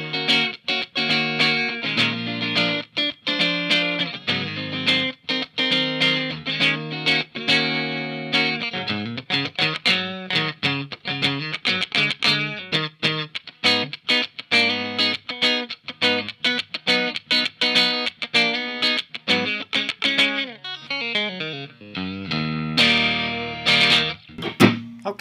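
Electric guitar, a Glarry Burning Fire Style II on its middle pickup position, with a bright, slightly overdriven tone plays strummed chords and picked notes in a steady rhythm, loud and close, with no voices.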